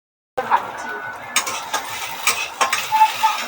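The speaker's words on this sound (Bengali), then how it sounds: "আমি কড়াইতে নেড়ে নিচ্ছি" An egg is stirred and fried in a wok, with a spatula scraping and clinking against the metal in short irregular strokes over a light sizzle, close and clear after a brief silent start.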